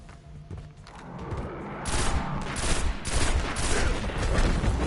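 Pulse rifle gunfire in the video game Destiny crackles in rapid dense bursts, loud and continuous, with bright sharp shots layered over a rumbling background.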